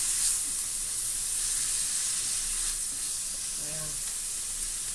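Bean sprouts stir-fried over a high flame in a pan, sizzling and hissing steadily throughout, with faint stirring scrapes near the end and no talk over it.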